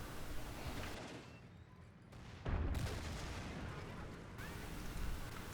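Mortar fire in a strategy video game, with a loud thudding blast and rumbling impacts above a continuous noisy battle backdrop.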